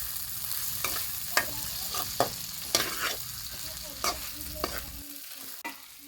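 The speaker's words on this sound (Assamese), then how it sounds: "এইখিনি এতিয়া ভালদৰে ভাজি লম" Potatoes and ginger fry in hot oil with salt and turmeric, a steady close sizzle broken by repeated sharp scrapes and clacks of a stirring spoon against the pan, with no talking.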